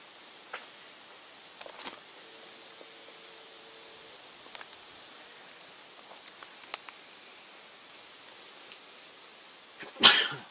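A sneeze bursts out loudly near the end of a quiet outdoor camping scene, following a long stretch of faint background hiss, soft rustles and a few small clicks.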